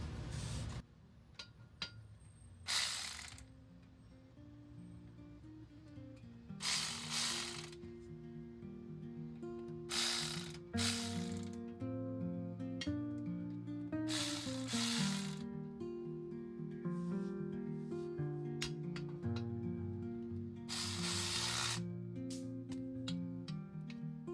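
Ratchet wrench cranking on a Ford F250 rear differential during an oil change, a run of close mechanical clicks and ratchet bursts repeating in short spells over a faint tonal hum.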